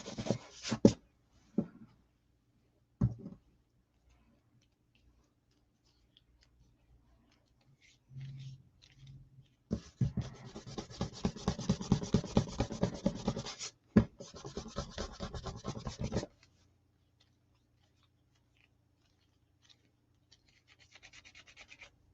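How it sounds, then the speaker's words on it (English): Bursts of dry scratching and rubbing as excess sketch marks are erased from paper, short strokes early, then a longer dense stretch of brisk rubbing, quiet and close with pauses between. "Some of those excess sketch marks up off of there."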